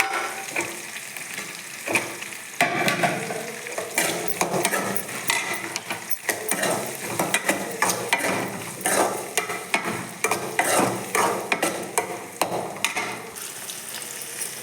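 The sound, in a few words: onions frying and being stirred in a pan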